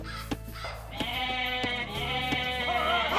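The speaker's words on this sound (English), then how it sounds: "Those goats are almost fat enough to bother with." Goats in the Age of Mythology video game bleat in a few short wavering calls over a steady game background hum, with no voices.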